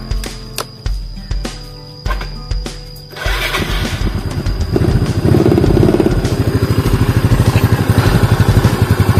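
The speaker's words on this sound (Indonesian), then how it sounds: "Untuk kondisi mesinnya kita coba nyalakan ya, bagaimana starternya, kondisi mesinnya bagaimana starternya." A 2007 Yamaha Mio Sporty scooter-style motorcycle is cranked several times with short starter whirs, then catches and settles into a loud, close, steady idle with a rapid rhythmic putter.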